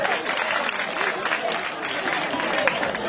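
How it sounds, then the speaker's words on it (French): Applause from festival-goers and schoolchildren at a book festival, a steady wash of clapping from a sizeable crowd that holds at an even level throughout, with some voices mixed in. "Applaudissez pour vous."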